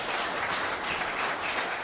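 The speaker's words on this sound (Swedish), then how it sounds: "Ge dem här en applåd" Dense applause from an audience at an accordion music event, a brief, even burst of steady clapping at fairly close range.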